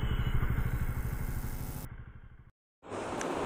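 Bajaj Dominar 250 motorcycle running with a steady pulsing engine beat, loud and close for about two seconds, then a brief silent cut before the engine drone returns.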